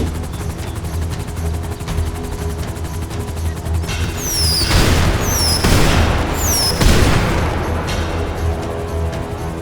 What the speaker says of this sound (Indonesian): cepat serang makhluk misterius itu dengan petasan roket sekarang juga Masya.